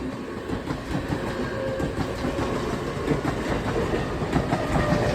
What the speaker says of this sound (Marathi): ट्रेन आली बघा गाईज आता. ट्रेन आली.